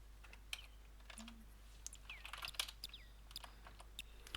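Close computer keyboard typing, entering a command while playing King's Quest 1: a quick run of light plastic key clicks in uneven bursts over a faint steady hum, with no talking.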